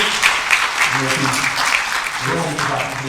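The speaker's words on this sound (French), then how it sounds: "si on peut l'applaudir s'il vous plaît" An audience at a Paris Games Week influencer conference claps steadily, a continuous mid-loud wash of hands with a few voices faintly underneath.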